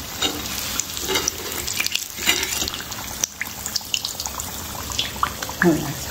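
Bread aloo patties fry in hot oil, a dense continuous sizzle and crackle with occasional bubbling bursts and light clinks, close and loud throughout.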